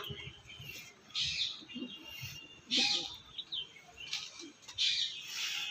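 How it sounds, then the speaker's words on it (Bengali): Andhra pigeons, a breeding pair, make soft calls and wing flutters close by in short bursts, with quiet background murmur between. "আন্ধ্রা পেয়ার আছে পেছনেরটা মাদি এটা মাদি"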